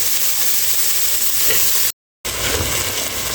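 Chicken fries in a pan for an Arabic maqluba, a loud, steady, close sizzle that runs continuously apart from a brief cut of silence.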